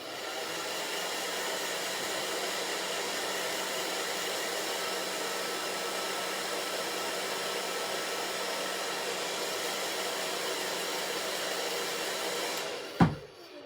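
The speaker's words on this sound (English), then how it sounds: "I'm going to hit it with a little bit of the heat here to dry it" Heat tool blows a steady, even whoosh for about thirteen seconds to dry a chalk transfer craft project, then cuts off with a brief bump.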